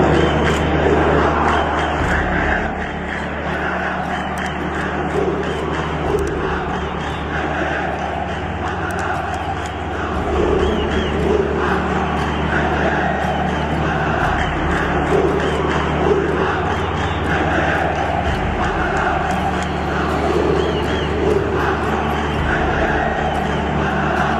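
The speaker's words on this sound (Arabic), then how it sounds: "الجمهور زي ما انتوا شفتوا كده طلع وهتف الهتافات دي" Ittihad football fans chanting at Borg El Arab stadium right after the match against Zamalek, a dense roaring crowd sustained throughout, with rhythmic massed voices and shouts all at a steady loud level.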